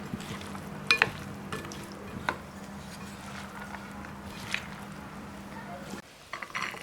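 A spoon stirs a green lentil salad in a pot or bowl, making a steady low scraping and mixing sound with a few light clinks, running continuously before it stops abruptly near the end.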